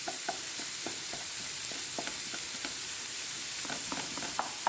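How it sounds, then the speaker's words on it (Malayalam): Onions with a little salt sautéing in a pan for a beef and potato curry, a steady low sizzle broken by repeated soft scrapes and taps of a spoon stirring, with no voices. "ഇനി നന്നായിട്ടൊന്ന് വഴറ്റിയെടുക്കാം"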